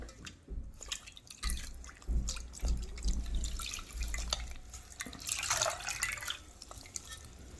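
Water splashing and dripping as a saree fall cloth is washed by hand, with irregular sloshes and trickles close by, and no one speaking.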